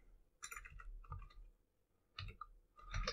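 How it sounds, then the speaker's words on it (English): Rapid clicking keystrokes on a computer keyboard in short bursts with pauses between, close and fairly quiet, no talking. "Typing's difficult today."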